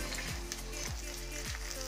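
Steady, dense sizzling of potato pancakes frying in hot oil, close up and continuous, with a few faint clinks from a pan.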